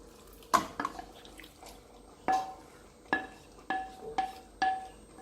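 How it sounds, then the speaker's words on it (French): Spoon scraping and knocking in a pot of smoked pork ribs and red beans being stirred, a handful of separate clinking strokes with short gaps, close and fairly quiet. "Donc là, 10 minutes après, je vais venir mélanger."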